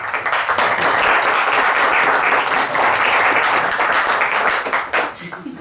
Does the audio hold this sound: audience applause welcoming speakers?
yes